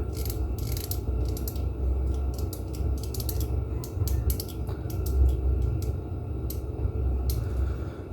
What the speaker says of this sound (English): if you look at the collar there as you screw it, it's clamping down on the rubber pipe